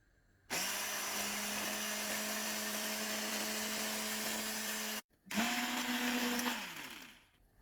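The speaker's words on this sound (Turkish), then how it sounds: "Yaklaşık 5 dakika mikserle karıştıracağım arkadaşlar" An electric hand mixer beating eggs and sugar whirs steadily for several seconds, cuts out briefly, then runs again before winding down to quiet.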